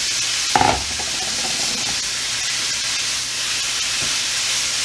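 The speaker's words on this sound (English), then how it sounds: "I'm going to put 1 pound of hamburger" A pound of ground beef added to translucent onions frying in a pan, a sharp clatter at the start, then a steady, even sizzle with light stirring.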